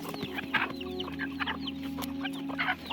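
Several chickens cluck close by in short, repeated bursts over a constant low background hum.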